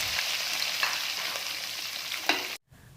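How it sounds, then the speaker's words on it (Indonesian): Chopped chicken liver fries in a small amount of hot oil, giving a loud, continuous sizzle with a few sharper crackles before the sound cuts off abruptly near the end. "Nah ini ati yang udah dipotongin tadi, sekarang akan aku goreng dulu."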